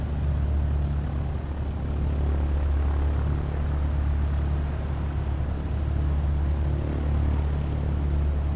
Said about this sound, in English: Cessna November 79092. Taking off runway 10, straight out departure